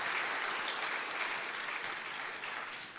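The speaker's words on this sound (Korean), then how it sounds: "우리 하나님께 영광의 박수를, 찬양팀과 찬양대에게 감사의 박수를 드리겠습니다" A church congregation applauds during a Sunday evening worship service: dense, continuous clapping from many hands, steady and even throughout, with no distinct voices over it.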